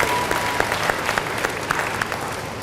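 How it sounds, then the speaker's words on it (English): Applause at a high school athletic banquet honoring a cheer squad, continuous crowd clapping with a few sharp nearby claps standing out, full and sustained for the whole stretch. "Please give them a round of applause."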